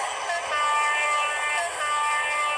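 A sustained train horn blares in the Trainz Driver video game, a loud steady chord held for the whole stretch with a slight dip partway through, no talking.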